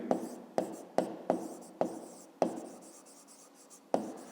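Pen or pencil writing a measurement of 3 cm 5 mm in a school maths exercise, heard as a series of sharp, evenly spaced strokes and taps on paper, close and fairly quiet, with no voices.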